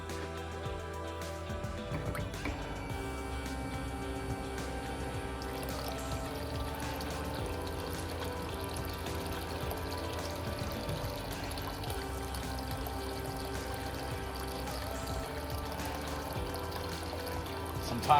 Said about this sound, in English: Sometimes I need to turn the valve because the water is not flowing good enough quite yet